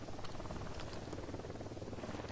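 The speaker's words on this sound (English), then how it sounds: "We got a chopper." Helicopter in the video game Ghost Recon Wildlands, a faint continuous rotor thrum with a rapid chopping pulse, steady and distant with no talk.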